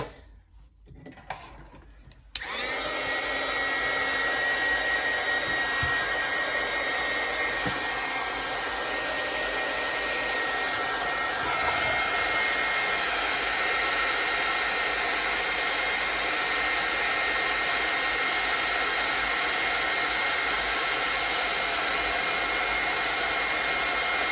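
A hair dryer blows steadily on a drawing, starting abruptly after a couple of seconds of quiet and running loud and continuous for the rest of the clip.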